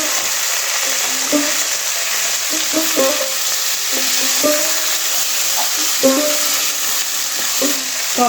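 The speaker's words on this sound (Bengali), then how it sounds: "এবার এখানে টমেটো দিয়ে দেব।" Tomatoes go into a pan of lightly fried onions for an egg curry, and a loud, constant sizzle carries on with the repeated scrape and clack of a stirring spoon against the pan.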